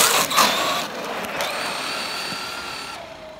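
A Traxxas Maxx 4S RC monster truck pops a wheelie on a stone-mountain bash, its electric motor giving a loud whine that starts with a sharp burst, then holds a steady high hum before cutting off abruptly near the end.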